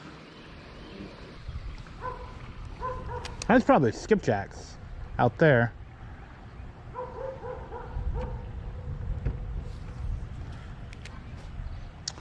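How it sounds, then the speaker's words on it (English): A dog barks in the background near a lakeside dock during a fishing trip, with a few short yapping bursts heard under and between a man's speech. "And there's a dog barking in the background."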